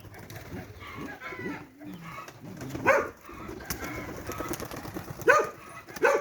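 Pigeons coo in low, throaty bursts close by, a few distinct calls over faint shuffling and murmuring background sounds.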